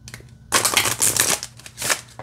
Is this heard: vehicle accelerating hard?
no